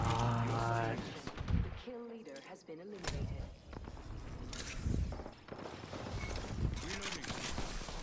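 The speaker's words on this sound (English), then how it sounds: "The bitch boy Octane shooting from real far away with a G7" Distant G7 rifle shots in the video game Apex Legends crack sparsely through the match, with sharp reports and game effects under excited player talk.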